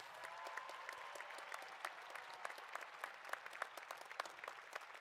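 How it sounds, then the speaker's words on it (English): A large graduation audience at the Red Mountain Class of 2016 ceremony claps steadily for outstanding student leaders. The applause is dense and continuous but sounds faint and distant. "Everyone, please join me in a round of applause for these outstanding student leaders"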